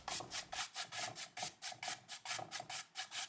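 A carved wooden printing block is smoothed by hand, giving a steady back-and-forth rasping rub that repeats about four times a second, close and even, with no voices.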